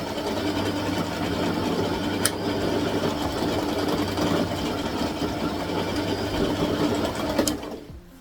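A sewing machine runs steadily and close up, sewing backward stitches on a ribbon-trimmed tutu, with a continuous whirring hum for about seven seconds before slowing and stopping.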